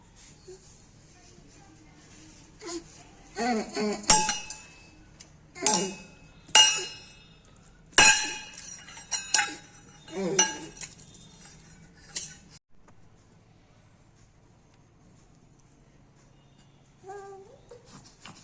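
Dishes and utensils clatter and clink sharply in scattered bursts as a small child throws them, with babbling in between and then a quiet stretch.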